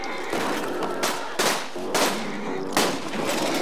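Rapid bursts of automatic gunfire from Borderlands 2 video game weapons come in repeated loud volleys, each about half a second long, with brief gaps between them.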